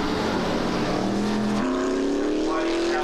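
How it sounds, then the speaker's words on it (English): A stock-block Formula 5000 race car engine of about 650 horsepower roars loudly and steadily on track at Wigram, holding a high pitch that climbs after a gearchange, with a commentator talking over it. "Stock block Formula 5000s putting around about 650 horsepower down onto the racetrack."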